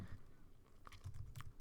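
Typing on a computer keyboard while writing Java code for a game of twenty-one: faint, scattered key clicks in a quiet room, irregular and soft.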